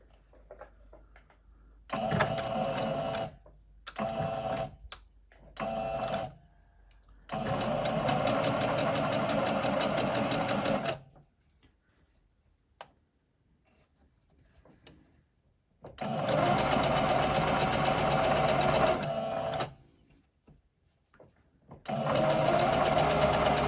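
A sewing machine stitches a raglan T-shirt in several bursts of rapid, even whirring, separated by short pauses and a longer stop.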